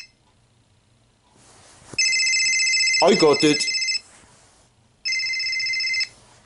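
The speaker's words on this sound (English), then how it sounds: "I can hear a phone ringing." A telephone rings in two loud electronic bursts separated by a pause, close by, while a voice briefly speaks in between.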